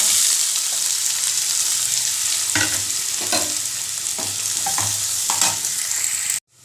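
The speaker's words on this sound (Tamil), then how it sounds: "வெங்காயம் நல்லா வதங்கிட்டு தக்காளி சேர்த்துக்கலாம்" Sliced onions fry with cumin seeds in hot oil, a loud continuous close sizzle broken by several scraping stirs of a spatula, ending abruptly near the end.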